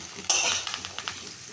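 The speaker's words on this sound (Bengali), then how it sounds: "সবজিগুলো সব দিয়ে দেব একসাথে, দিয়ে একটু ভেজে নেব।" Vegetables with grated ginger and curry leaves hit hot oil for upma, setting off a sudden loud sizzle that settles into steady frying, punctuated by a few clinks and scrapes of stirring.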